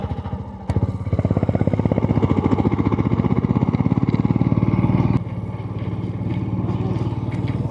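A motorcycle riding along hill roads near Kanthalloor in Kerala, its engine thumping in a rapid, steady pulse close to the listener, loud and rising after a brief lull, then settling to a slightly softer drone.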